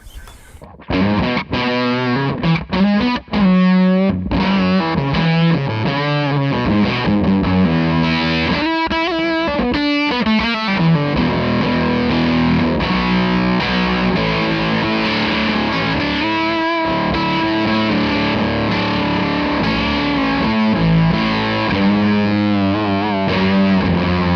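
Electric guitar through a fuzz pedal on the bridge pickup, played low on the neck, roars continuously with thick saturated tone and warbling, ring-modulator-like metallic overtones, loud and unbroken for the whole stretch.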